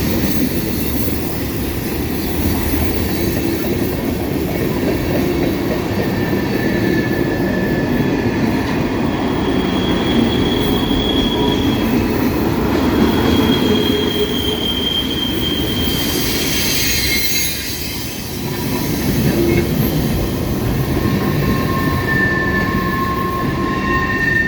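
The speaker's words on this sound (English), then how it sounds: "Definitely has to be one of the strangest trains I've ever seen on the old main line" A CSX manifest freight train led by an EMD GP40-2 rolls past on an old main line, with a steady close rumble of railcars, clattering wheels and intermittent high wheel squeal throughout.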